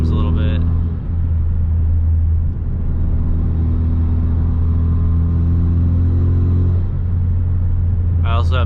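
A 2017 Hyundai Veloster Turbo with a K&N intake idles in sport mode with raised RPMs, a steady low engine drone heard from inside the car, with short bursts of talk at the start and end.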